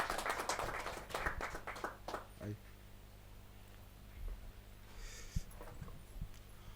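Crowd clapping at a poetry gathering, a burst of applause in the first two seconds that fades out. After it comes a quieter stretch with scattered taps and faint talk.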